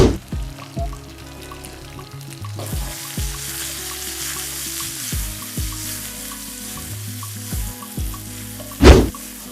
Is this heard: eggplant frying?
yes